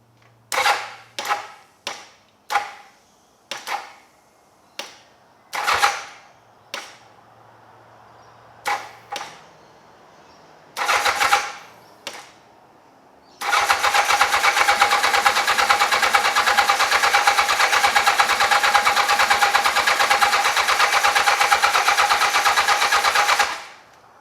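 An old motorcycle, a Yamaha XJ 650 or Honda CBX 750, cranks in about a dozen short starter bursts separated by pauses, then catches and runs with a loud, continuous engine roar.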